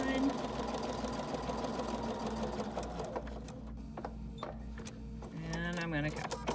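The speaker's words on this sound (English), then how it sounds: "Stitch right on that line." A sewing machine runs steady fast stitching along a line during foundation paper piecing for quilting, loud and close, pausing briefly before a voice speaks near the end.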